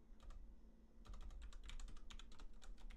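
Quiet, rapid typing on a computer keyboard in a code editor, irregular bursts of key clicks that start sparse and then speed up into a dense run, with no talk.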